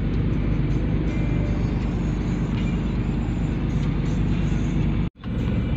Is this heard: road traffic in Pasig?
yes